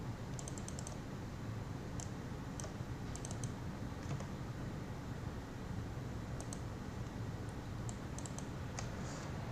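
Computer keyboard typing while entering values for a PLCnext controller writing Modbus TCP data to a Schneider M221: scattered light key clicks in small bursts, faint over a steady low background hum, with no talk.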